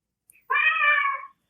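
One clear, close cat meow rises and holds for nearly a second in an otherwise quiet moment.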